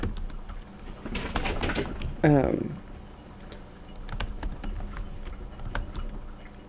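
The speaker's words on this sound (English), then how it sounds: "Talking while typing." Steady typing on a computer keyboard while writing a book, a close run of quick light clicks that continues under a speaking voice, with one louder clatter midway.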